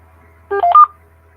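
Short run of telephone keypad dialing tones from a phone, three or four quick beeps close and clear over a low steady hum.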